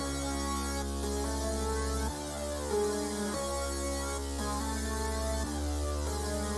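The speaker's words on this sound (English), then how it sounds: "the first synth that I've used was from Synthetic's Noise Serum Bank" The Chord Metallica preset from Synthetic's Noise Serum bank plays dense, metallic, sustained synth chords that change every couple of seconds over a deep low layer, continuous and alone.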